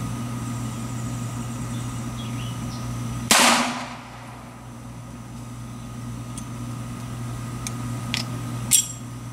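A single sharp report from a Beretta U22 Neos pistol fired at a target outdoors, close and loud over a steady low hum, followed by faint clicks and small metallic sounds.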